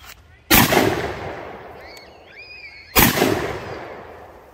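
Two loud, close blasts from a Stoeger 12 gauge over-under shotgun fired at soda bottles outdoors, spaced a couple of seconds apart, each with a long echoing tail and faint birdsong between them.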